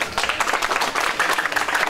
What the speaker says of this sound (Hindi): सभी तालियों से स्वागत करेंगे।